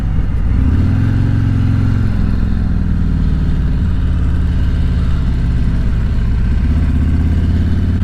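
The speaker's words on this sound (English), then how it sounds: "we're pulling the bike up over here" A 2019 Harley-Davidson Road Glide motorcycle idles and rumbles nearby as it is pulled up, its low engine note loud and steady for the whole stretch, with slight shifts in pitch and no talking.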